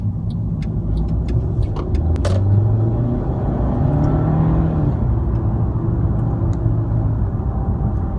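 Mercedes W204 C180 with a RaceChip XLR tuning module pulling away, a steady low engine rumble and whir swelling slightly as it accelerates, heard from inside the car with no talking.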